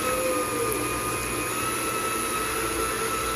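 An electric mixer creams soft butter for cookie dough, giving a loud, steady motor whir with a high whine that runs unbroken and close throughout.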